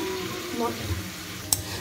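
Potatoes frying in oil in a pan at home, a soft, steady sizzle with faint stirring clinks and one brief sharp tap near the end.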